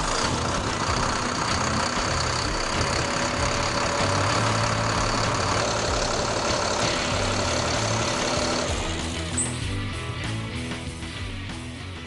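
An engine idles steadily after an oil change, a constant close rumble with a mechanical whir that slowly softens toward the end.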